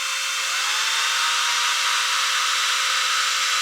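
A DeWalt power tool runs at full speed, a steady close whine with a faint rising tone that holds unbroken for several seconds, with no talking.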